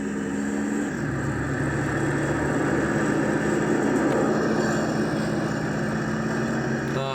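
A car engine hums steadily from a Windows 98 driving game set in Chicago, a continuous mid-low drone with a slight pitch shift early on and a faint sustained tone throughout.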